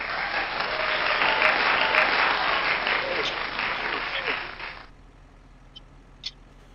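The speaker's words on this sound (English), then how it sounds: "Give her a round of applause." A round of applause from a crowd, loud and steady for about five seconds, then cutting off to near quiet with a couple of faint clicks.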